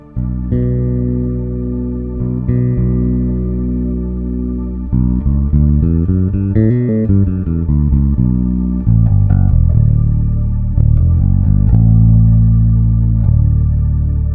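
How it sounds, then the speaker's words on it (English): Bass guitar notes ringing over a sustained low D drone, sounding a sixth against D and shifting through several pitches with a short run in the middle, clear and fairly loud. "Listen to how the 6 sounds against the tonic, which is D in this case."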